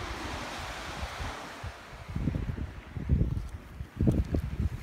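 Surf rolls onto a deserted beach at Hermit Island, Maine, in low rumbling surges under constant wind buffeting the microphone; no voices are heard.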